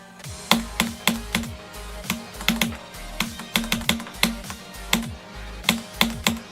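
Keyboard keys click during a game stream, loud and close, in irregular bursts of single and clustered taps with short gaps, each stroke sharp with a low thump beneath.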